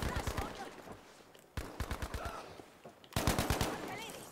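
Battlefield V automatic gunfire rattles in three sustained bursts of rapid, close shots separated by short breaks, the final burst loudest.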